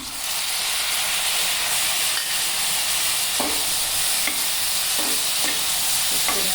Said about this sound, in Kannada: ಬಾಡಿಸ್ಕೊಳ್ಳೋಣ ಒಂದು ಐದು ನಿಮಿಷ ಬಾಡಿಸ್ಕೊಳ್ಳೋಣ